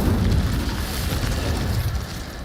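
Incendio fire spell blast in the Hogwarts Legacy video game: a sustained roaring, rumbling burst of flame that stays loud and dense for the whole stretch with no talking over it.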